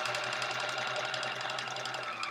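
Sewing machine running continuously while stitching a quilt block, a fast steady mechanical whir and needle patter at close range with no talking.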